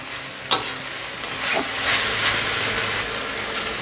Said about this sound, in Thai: หลังจากนั้นนะครับก็จะผัดคลุกเข้าให้เข้ากันเลยครับ